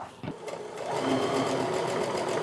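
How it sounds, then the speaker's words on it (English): After a brief pause, a sewing machine starts up and stitches a 1/4 inch quilt seam, its close, steady mechanical whir building and holding to the end. "I just need to make sure that I'm sewing that 1/4 inch seam so I don't lose this point or this point here"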